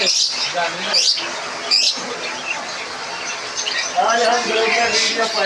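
Parrots at a bird market in Faisalabad give shrill chirps and squawks that rise and fall across the whole stretch, getting denser and louder toward the end, mixed with market bustle.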